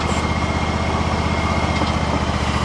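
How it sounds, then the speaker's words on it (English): A John Deere X530 lawn tractor engine runs steadily close by, a continuous even drone with a fast regular pulse and no pauses. "Alright, so we have the tractor running."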